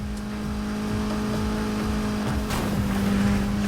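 A car engine in the Need for Speed Heat racing game drones steadily while driving toward downtown, a continuous hum with shifting pitch and no speech.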